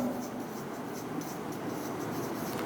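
A marker or chalk scratches a line of writing onto a board in a physics classroom, a steady close-up scraping texture over a brief stretch with no speech.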